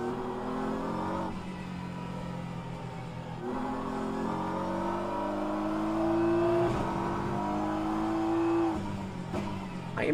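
A race car engine in rFactor 2 at Interlagos drones and rises in pitch through gear changes, dipping briefly between shifts, loud and continuous throughout with no talk.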